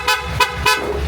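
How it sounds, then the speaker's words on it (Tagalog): Three short toots from the horn of a Kawasaki KLE 500 motorcycle, each a bright, buzzy blast of about a tenth of a second, loud and close, evenly spaced with an idling hum beneath. "Ayan, yung busina."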